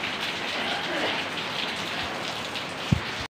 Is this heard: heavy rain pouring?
yes